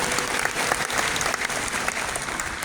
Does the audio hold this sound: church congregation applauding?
yes